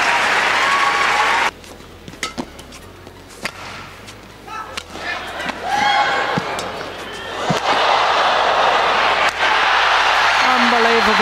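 Crowd applause and cheering at the All England Open badminton championships after a rally won by Lee Chong Wei, a steady loud wash of clapping with sharp shuttle-like hits and a commentator's voice over it.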